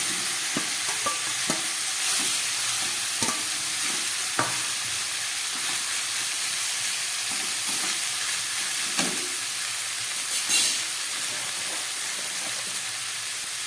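Chopped bottle gourd tipped into hot oil tempered with radhuni and bay leaves, frying with a steady close sizzle and hiss while a spoon scrapes and stirs the pan in repeated clinks, no voices over it.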